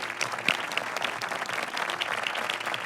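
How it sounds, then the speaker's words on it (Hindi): A studio audience claps steadily for a team's score at a Ramzan game show, the applause dense and continuous at moderate level. "70 पॉइंट, तालियां"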